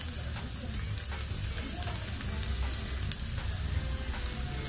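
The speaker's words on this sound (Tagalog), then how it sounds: "Paglalasahin natin bawang yung mantika." Garlic frying in cooking oil for beef salpicao, giving a steady, dense crackling sizzle throughout with faint voices underneath.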